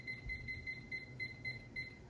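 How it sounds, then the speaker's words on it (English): A kitchen timer set while making peanut butter bread in a bread machine beeps in a rapid, regular series of short electronic tones, fairly quiet against a low room hum. "So I'm setting this timer for 40 minutes"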